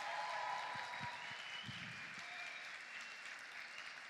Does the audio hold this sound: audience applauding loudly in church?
yes